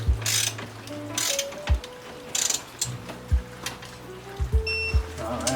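A ratchet wrench clicks in quick repeated bursts while tightening strut tower brace bolts on an Acura RSX Type S, the close metallic pawl ticks separated by short pauses and thumps.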